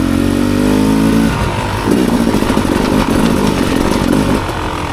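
A Beta 300 Xtrainer two-stroke dirt bike engine runs close by, first holding a steady buzzing rev, then dropping to a choppy, lumpy idle-like putter before revving lightly again.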